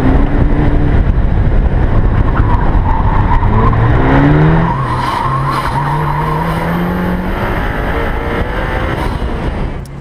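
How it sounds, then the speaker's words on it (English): A sports car runs through slalom switchbacks on a club racing course. The engine is loud and close, its pitch sweeps up and down through the turns, and the tires squeal and skid throughout. "We'll do some switchbacks. Slalom type maneuvers before the finish."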